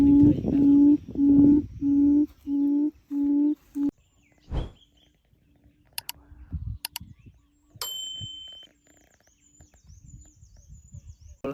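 A bird calls repeatedly in a steady series of short, tonal notes, then a few sharp higher chirps and clicks follow, fairly close, with no voices.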